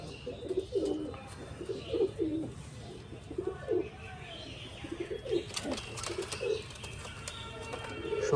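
Pigeons in a loft give soft, repeated throaty coos in irregular bursts, with a few faint chirps and light rustling toward the end, all fairly quiet and close.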